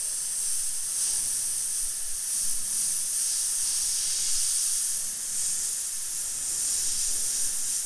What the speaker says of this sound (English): So the airbrush I'm using here is just a Sagola X-Tec 200.